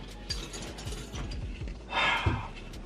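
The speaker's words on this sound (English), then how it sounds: "using the jack" A car jack ratchets in quick, repeated mechanical clicks while a 2JZ-converted BMW E46 is raised to fit a TDR transmission mount, ending in a brief louder scrape. No voices.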